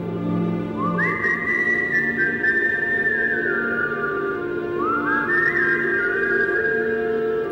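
Two long, rising whistles, each held steady then gliding down, heard clearly over a low background hum.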